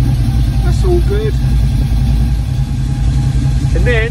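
A classic car's engine idles steadily through a cold winter warm-up, a loud, even low rumble that holds constant from start to finish, with a brief whistle-like sound over it.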